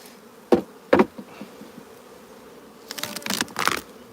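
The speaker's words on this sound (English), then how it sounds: "Plenty of bees in this one." Honey bees hum around a nucleus hive during a transfer, a low steady drone broken by a few loud knocks and a burst of rustling from handling the frames.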